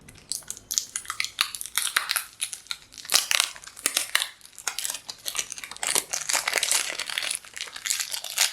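Crinkling and crushing of a new package holding a 15 ml bottle of pure steam-distilled rosemary essential oil as it is opened, irregular crackly bursts close up and moderately loud.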